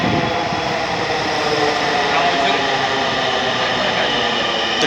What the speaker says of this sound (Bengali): উত্তরে ট্রেন ঢুকলো